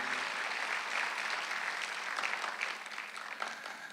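A church congregation at Sunday worship breaks into sustained applause, a dense wash of many hands clapping at a moderate distance, steady and even, thinning slightly toward the end with no speech.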